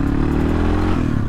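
A 1988 Yamaha XT350 motorcycle pulling uphill, its single-cylinder engine thrumming steadily and loud at close range under load, with no talking.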